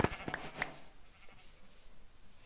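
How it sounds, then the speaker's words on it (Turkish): Minecraft sheep bleating while being sheared, with a few short bleats and snips close by at the start, then quiet game ambience. "Şimdi şuradan koyunları keselim."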